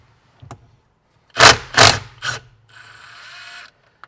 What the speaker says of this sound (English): I'm going to be using a small impact gun